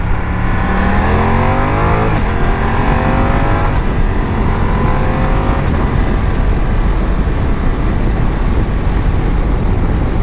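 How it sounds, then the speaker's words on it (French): A BMW F900 XR motorcycle accelerating hard, engine pitch climbing through several gear changes, loud and close with a steady roar of wind and road noise underneath, no talking. "on va tester un peu l'accélération là-dessus"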